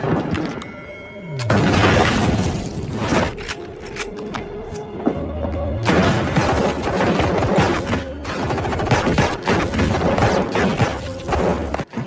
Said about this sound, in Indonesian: di mana ia dan timnya secara brutal menembaknya